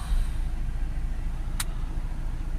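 A Ford Transit Custom 2.2 diesel engine idles with a steady, low, even drone, broken by one brief sharp hiss or click partway through.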